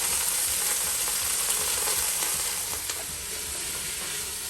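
Ground hamburger meat browns in a soup pot, giving a steady, close, dense sizzle and hiss with faint stirring clicks throughout.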